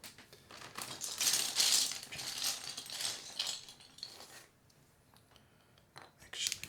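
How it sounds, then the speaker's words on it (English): Small tools clatter while sorting plastic keycaps, with a few bright metallic and plastic clinks and rattles over several seconds, then quiet, and another clatter at the end. "Dropping tools."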